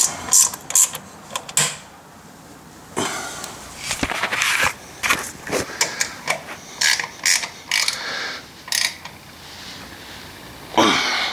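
A ratchet clicks in short bursts while muffler bolts are tightened on a Kawasaki engine being upgraded from 19hp to 23hp. Quick metallic ratcheting strokes come close and fairly loud, separated by pauses and small handling noises.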